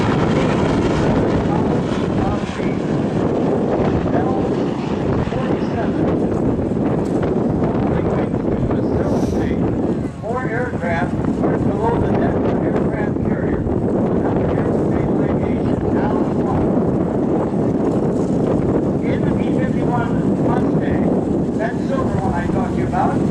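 A TBM Avenger warbird flies at the Fort Worth Alliance airshow, its engine drone steady and fairly loud under continuous wind buffeting, with a voice talking over it throughout.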